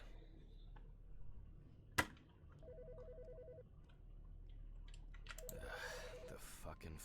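A phone rings inside the video game Autopsy Simulator, two short electronic trills with a gap between them over a quiet hum. A sharp click and other faint game sounds are scattered around them.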